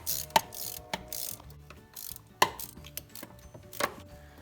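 A ratchet with a Torx T30 bit snugging bolts on the rear coolant flange of an Audi A4 B7 2.0T FSI, giving close, crisp clicking bursts in several short irregular runs.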